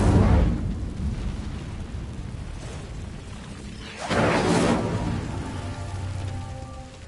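An Incendio fire spell is cast in Hogwarts Legacy, giving a crackling, rushing burst of flame that swells suddenly midway over a steady background rumble.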